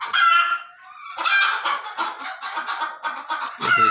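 Desi golden misri chickens cluck loudly and close by in quick bursts, separated by short quiet gaps, while a rooster crows near the start and again at the end.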